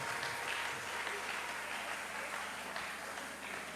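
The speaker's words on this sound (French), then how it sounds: "Acclamez très fort les rois." A church congregation at a Sunday service applauds loudly, a continuous dense wash of many hands clapping that holds steady throughout.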